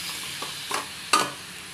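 Sliced squid cooks in a pan under a soft steady sizzle, broken by a few short stirring scrapes and one sharper clatter near the end, close by, with no speech.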